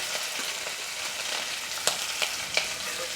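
Mustard seeds, curry leaves, green chillies and onion frying in a pan, a close, even sizzle with a few sharp pops and crackles, no talk.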